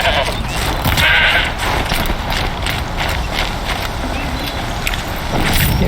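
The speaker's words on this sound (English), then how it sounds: "There is a goat." Goat bleating in the video game Horizon Zero Dawn: The Frozen Wilds, heard over a loud, steady wash of game ambience with a few scattered clopping, clattering sounds throughout.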